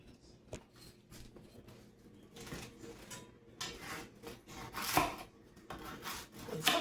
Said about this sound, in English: I'm going to slice them up or cube them up and use these for my croutons